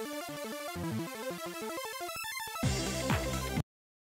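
A synthesized arpeggio loop plays from a Unity audio mixer, quick stepping notes that climb and fall in a repeating pattern, shifting to a denser, buzzier texture near the end before cutting off abruptly into silence.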